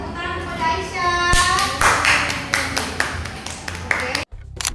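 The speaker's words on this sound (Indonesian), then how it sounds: "Terima kasih tepuk tangan kepada Aisyah." Pupils in a primary school micro-teaching lesson clap for their classmate Aisyah. A voice speaks first, then a burst of close, lively clapping from the small group runs for about three seconds before a sharp cut.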